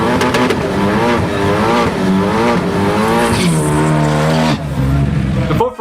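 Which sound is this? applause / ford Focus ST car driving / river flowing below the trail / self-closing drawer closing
ford Focus ST car driving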